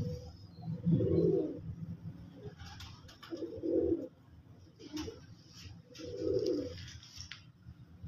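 Pigeons coo in three distinct rounds of soft, throaty warbling, close by, separated by brief pauses with faint rustling in between.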